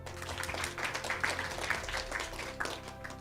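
An audience at a live sales training event applauds with steady, dense clapping, moderately loud with no voices on top.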